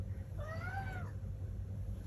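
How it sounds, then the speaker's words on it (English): A pet cat gives a single drawn-out meow, faint and somewhat distant, rising then falling over about half a second against a quiet room hum. "that's my cat again"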